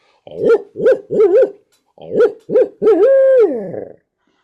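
A person's voice imitates a barred owl, giving a rhythmic sequence of loud, close hoots ending in a long drawn-out descending call, with no other sounds around it.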